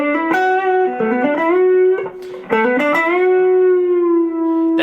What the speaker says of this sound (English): he'll bend up to what we're going to call the diatonic neighbor